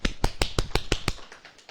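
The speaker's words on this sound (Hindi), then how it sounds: "ताली बजाओ" Sharp hand claps from a church congregation during a sermon come in a quick regular series of about eight beats, then fade into softer scattered claps.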